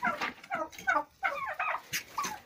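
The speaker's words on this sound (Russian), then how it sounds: "а что это, у меня еще один, что ли, индюк?" A turkey gobbles repeatedly at close range, rapid warbling calls in a series of bursts with brief pauses.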